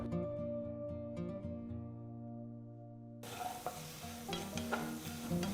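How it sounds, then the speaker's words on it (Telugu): Potato pieces frying in oil until golden for a Navaratri prasadam dish, a steady close sizzle with repeated stirring scrapes that turn louder and busier partway through, with no talking. "ఇవన్నీ బాగా గోల్డెన్ కలర్లోకి వచ్చే వరకు వేయించుకోవాలి"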